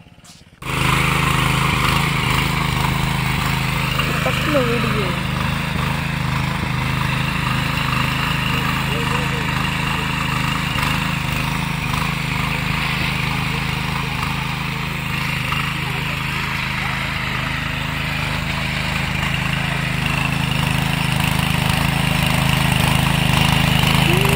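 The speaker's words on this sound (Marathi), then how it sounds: "आता मी ट्रॅक्टर आणून जाग्यावर लावलोय" A tractor engine runs steadily at idle on a paddy farm in the Konkan during rice sowing, a continuous low rumble close by for the whole stretch.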